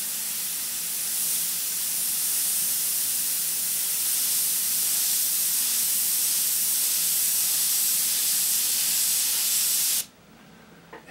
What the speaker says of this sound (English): I'm spraying half and half.